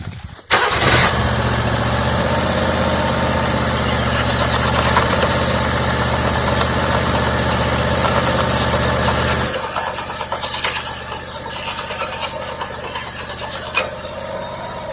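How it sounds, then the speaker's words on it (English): A Paddock tracked mini loader digger's engine cranks and catches with a sudden loud start, then runs at a steady idle before the note drops to a quieter, lower running sound. "I'll start the digger back up"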